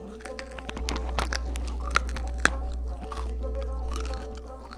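Crunchy Mexican candy is bitten and chewed up close, with a run of sharp crackling crunches and a couple of louder snaps over a steady low hum.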